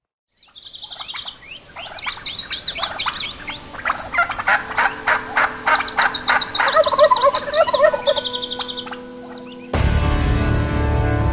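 Gould's wild turkeys gobble during a spring hunt in Mexico, loud rapid rattling gobbles and chirping calls repeating for several seconds, then a burst of broadband noise near the end.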